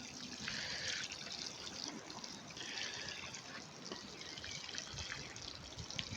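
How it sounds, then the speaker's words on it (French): Water poured gently over freshly sown golden ball turnip seedlings, a soft, steady trickle and splash on soil, faint and close, running for several seconds without talk. "bien arrosé comme ça"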